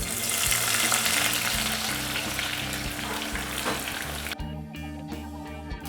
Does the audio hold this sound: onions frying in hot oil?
yes